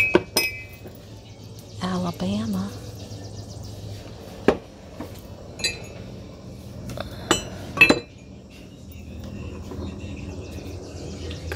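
Small glass souvenir pieces, including a little Mickey Mouse club glass, clink sharply a few times as they are picked up and handled at a garage sale, the taps close and bright amid background noise, with a voice speaking intermittently.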